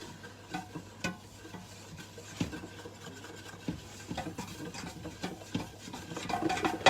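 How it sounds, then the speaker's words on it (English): Curry paste stirred constantly in a hot pan, a spoon scraping and rubbing in steady strokes over a soft sizzle, close and fairly quiet, with no talk. "Constantly stirring it because it will burn."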